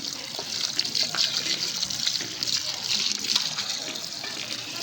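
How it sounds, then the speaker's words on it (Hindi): Water running steadily from a tap in a small home garden while someone washes their feet, a continuous splashing gush with faint voices in the background. "ये अब बस इधर ही पाँव धो लेते हैं।"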